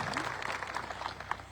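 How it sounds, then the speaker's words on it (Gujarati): A gathered crowd at a political rally applauds, a soft, distant-sounding patter of many hands with a faint steady hum underneath. "જોરદાર તાળીઓથી એને આપણે વધાવીએ"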